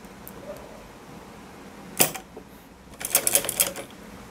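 A sewing machine stitches a pocket onto a salwar in two quick bursts of rapid clicking, a short run and then a longer one, close and fairly loud with quiet between them and no talking.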